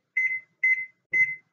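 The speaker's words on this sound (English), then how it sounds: "We're going to set a timer" A kitchen timer beeps while rice cooks, giving three evenly spaced electronic beeps, clear and close against silence.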